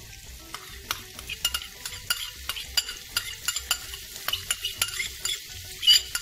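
Finely chopped garlic sizzles in hot oil in a pan for garlic bread, a steady bright crackle with frequent sharp clicks of stirring against the metal, close and alone without voices.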